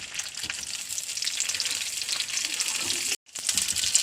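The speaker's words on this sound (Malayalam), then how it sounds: "വെണ്ടക്കായ വാട്ടാനുള്ള പാത്രം വെച്ച് വെണ്ടക്കായ വാട്ടാനുള്ള എണ്ണ ഒഴിച്ചു" Okra frying in hot oil in a pan for a Kerala sambar, a loud continuous hiss and crackle that keeps going steadily, with one brief drop-out near the end.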